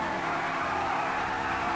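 Pegassi Tempesta supercar in GTA V heard from inside the cabin, its engine choking and sputtering: a steady, dense engine drone with a rough, rasping edge that holds at a constant loudness throughout.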